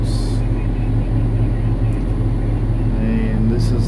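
Inside the cab of a Cat 988H front end loader, a steady, loud low diesel rumble drones throughout, with muffled voice-like sounds under it.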